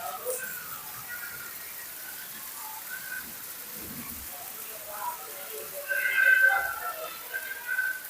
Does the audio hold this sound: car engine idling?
no